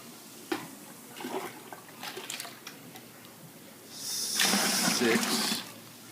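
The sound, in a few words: water poured from 2-quart pitcher for brewing beer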